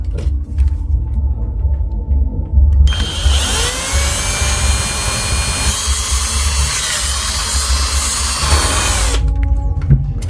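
A power drill whirs loudly for several seconds over a low background hum, its pitch shifting slightly as it bites into a bottle cap, then stops.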